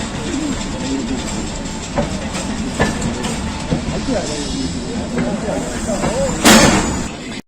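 Pakistan Railways' 48 Down Rehman Baba Express passenger train rumbles close by at Afzalabad station at night. A steady, clattering roar fills the platform, rhythmic clicks run through it, and a brief sharp hiss breaks out near the end.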